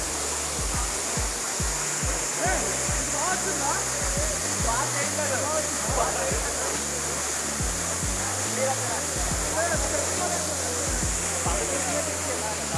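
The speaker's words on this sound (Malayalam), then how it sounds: "അങ്ങനെ നമ്മളെ സൂചിപ്പാറ വാട്ടർഫാൾസ് എത്തിയിട്ടുണ്ട്." Soochipara waterfall in a forested setting pours in a steady, loud broadband rush of falling water, with scattered low thumps underneath.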